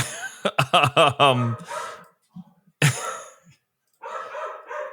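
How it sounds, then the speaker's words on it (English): Pet dogs bark in a quick, loud burst of close yaps indoors, followed by scattered softer barks and huffs after short pauses. "distracted by my dogs going absolutely berserk"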